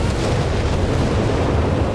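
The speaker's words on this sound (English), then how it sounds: "Another artillery strike" Artillery strike in Company of Heroes 3, heard as a steady, dense rumble of explosions with deep booming low end that holds constant throughout, loud and close with no pauses.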